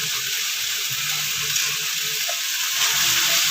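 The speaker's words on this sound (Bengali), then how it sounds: "এই গুঁড়ো মশলাগুলো এবার ভালো করে নাড়িয়ে নেব।" Ground cumin, dried chili and coriander fry with jackfruit and shrimp in a pan, making a loud, continuous, close sizzle while being stirred, with faint scraping underneath and no speech.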